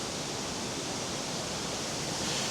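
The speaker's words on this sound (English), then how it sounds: "we're just going to have a look at the waterfall from the top" A waterfall beside a silica mine, heard from the top as a dense, continuous roar of falling water, close and loud throughout without any talk.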